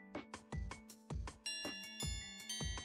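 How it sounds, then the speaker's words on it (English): A repeated chime-like school bell rings in a video game, bright tonal strikes sounding roughly every half second in a steady sequence, clear and prominent with no voices. "The bell rings, and with it begins lunch period."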